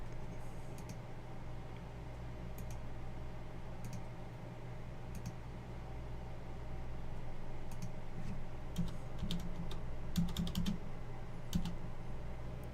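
Keys clack on a computer keyboard in irregular bursts, faint and steady over a low background hum, with no voice heard.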